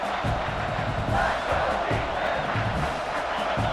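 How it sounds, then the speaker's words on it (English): Loud, roaring football stadium crowd at Ohio State versus Michigan cheering and yelling on a third down in the red zone, a dense sustained wall of noise with scattered whoops throughout. "this crowd is at fever pitch"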